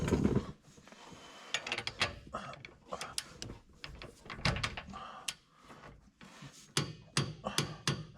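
Ratchet wrench clicking on transmission pan bolts of a 2006 Chevy 2500 HD, bursts of sharp metallic ticks and clanks in irregular rhythm, close and fairly quiet, with occasional talk nearby.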